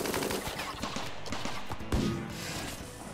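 Turrets and colonists fire at enemies in the video game RimWorld, a rapid run of sharp gunshot cracks and bursts layered over busy in-game background noise, moderately loud.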